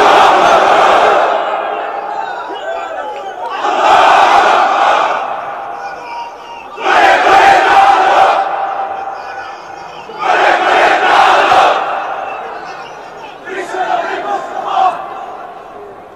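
A large crowd roars a takbir chant in four or five loud unison bursts, each a couple of seconds long, separated by brief quieter gaps, with no other speech over the shouting.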